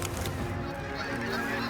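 A dense chorus of wild geese, including white geese, honking as they fly in, loud and continuous, many birds calling over one another at once.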